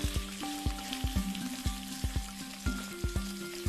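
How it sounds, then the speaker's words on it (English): Garlic prawns sear in a hot pan, giving off a run of sharp, evenly spaced pops and crackles close up, with no talking. "Just sear them on both sides real quick."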